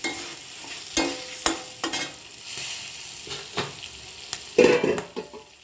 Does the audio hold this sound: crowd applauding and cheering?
no